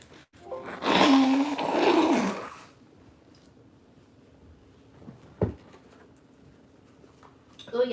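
A loud, wet nose blow lasting a couple of seconds, close up, followed by quiet room tone and a faint thump.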